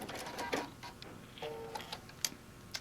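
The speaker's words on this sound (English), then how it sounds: "Decorative top stitching." A sewing machine runs decorative top stitching in short bursts of quick mechanical ticking and whirring, separated by brief pauses, fairly quiet and close.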